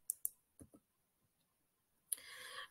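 A computer mouse clicking on a design tutorial workstation: a few sharp, quiet clicks near the start, a softer pair of taps, then one click followed by a brief bright rustle, close up in a silent room.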